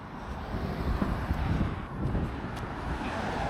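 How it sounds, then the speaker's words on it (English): Road traffic rumbles on the Guardamar Road in Ciudad Quesada, a continuous wash of passing vehicles mixed with wind buffeting the microphone, swelling slightly mid-way, with no one speaking. "It's a bit noisy with traffic"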